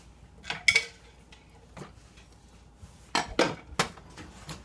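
Metal pans of stuffed peppers clank and knock as they are handled and slid into a kitchen oven, a few scattered clatters close by with quiet gaps between them.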